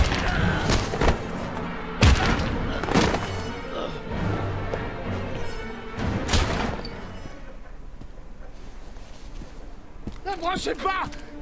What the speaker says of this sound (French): C'est une mitraillette qu'il a, c'est un pistolet.